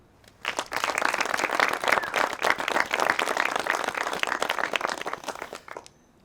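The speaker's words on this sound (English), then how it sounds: "by applause, let's affirm this beautiful couple" Wedding guests break into applause for the newly committed couple, clapping rising quickly, holding dense and lively for several seconds, then tapering off to quiet.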